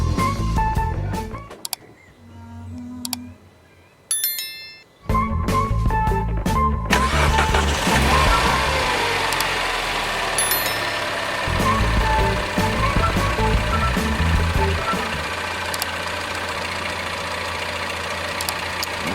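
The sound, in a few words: Peugeot 308 CC 1.6 THP engine starting and idling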